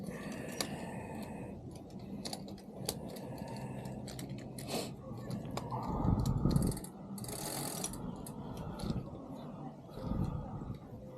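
A bolt is tightened on the cadence sensor of an Aventon Aventure 2.0 e-bike, giving close clicking, ratcheting and metallic handling noises in irregular bursts, with faint talk underneath.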